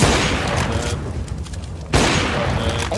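Rapid gunfire from the CS:GO video game, loud dense bursts of shots filling most of the span with a brief quieter gap in the middle before the firing resumes.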